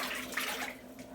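Quiet, steady hiss of running tap water while dishes are washed in a home kitchen during morning cooking, faint and uninterrupted with no talk.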